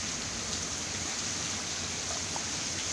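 Cold winter rain falls in a faint, steady hiss with no breaks and no voices.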